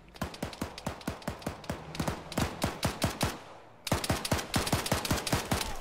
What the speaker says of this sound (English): They're firing back and forth here.